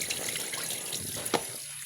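Tap water running steadily into a sink for washing, a close, continuous splashing rush with a brief brighter splash near the end and no talk.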